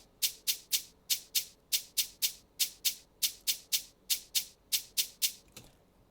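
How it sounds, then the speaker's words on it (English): A shaker plays alone in an afrobeats beat, giving a steady, evenly spaced run of bright, crisp hits, about three per second, that stop abruptly near the end. "the next thing I added was a shaker"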